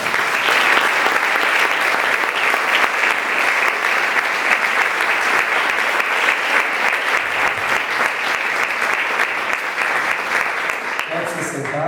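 A church congregation applauds loudly and continuously during a worship service, a dense wash of clapping that fades slightly near the end.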